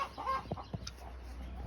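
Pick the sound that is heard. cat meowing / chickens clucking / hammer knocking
chickens clucking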